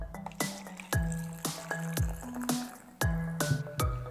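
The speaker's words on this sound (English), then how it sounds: "the water is dripping down through the hole and moving down across our landscape" Water poured into a pan of dirt and sand forming a slope drips through a hole, giving a series of distinct plopping drips at a roughly steady pace, close and clear.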